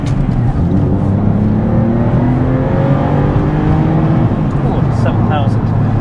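A Porsche Boxster engine, not yet fully warmed up, revs in a low, throaty drone with rising and falling harmonic sweeps, close and loud, while someone talks over it.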